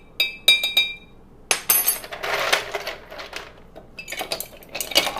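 A spoon clinks and scrapes against a glass while stirring cold brew coffee with syrup, giving several bright, close metallic taps and rattles in irregular bursts.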